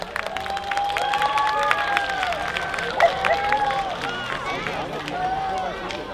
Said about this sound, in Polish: Także brawa dla nich jeszcze raz